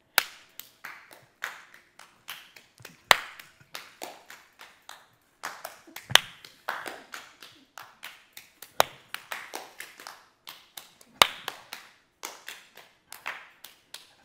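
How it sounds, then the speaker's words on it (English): Claps passed rapidly from person to person around a room during a group warm-up exercise, a fast irregular chain of sharp single hand claps at varying distances and loudness, with no talking over them. "We're just going to pass this clap as fast as we can."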